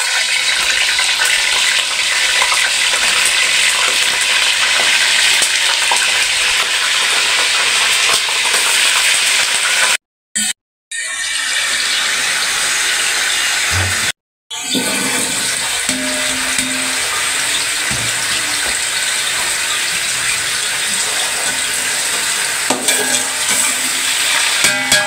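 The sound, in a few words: chicken frying in hot oil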